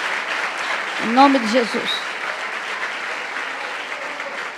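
Congregation applauding in a church service, a steady broad clapping wash filling the whole stretch while someone speaks briefly over it early on.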